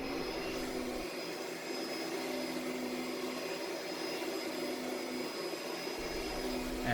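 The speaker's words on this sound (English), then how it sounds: "after Joe vacuums here, watch how much dirt we pull through the filter" A vacuum cleaner runs over carpet before shampooing for stain removal, a steady close whirring drone with a constant hum that holds for the whole stretch, with no talking.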